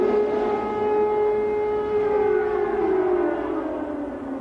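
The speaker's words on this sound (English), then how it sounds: "It was the first time since Saturday the sirens warned that Iraqi missiles were on their way" An air raid siren in Israel warning of incoming Iraqi missiles wails steadily with a slowly falling pitch, loud and sustained throughout, with no voices.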